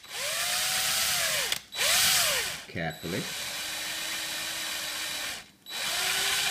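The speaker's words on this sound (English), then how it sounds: "if you wrap a bit of tape around the drill bit, you can actually only let it go in so far" A power drill bores into the cells of a 12 V car battery, whining up and down in several bursts with a short ratcheting chatter between them, loud and close, while someone speaks briefly.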